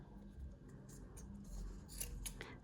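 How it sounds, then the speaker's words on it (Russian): Short scissor snips and cutting rasps trim excess material from handmade Christmas tree ornaments in irregular bursts over a steady low background rumble, close to the microphone. "И ножницами все лишнее убираю."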